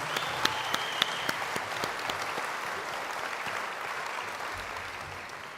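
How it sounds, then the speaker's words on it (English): Applause rises for a panel at the launch of Australia's International Decade of Indigenous Languages, a few sharp nearby claps standing out early before the crowd settles into steady, moderately loud clapping. "Please give them a round of applause."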